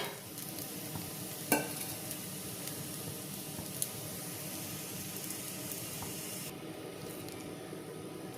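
Ragi adai frying in a little oil on a pan, a steady close sizzle with light crackle throughout, one brief sharp tick early on, no talking.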